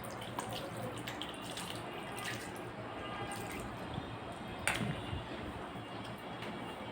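Water is poured gently into a pan of fish head chorchori curry, a faint, steady trickle and splash with a small clatter midway.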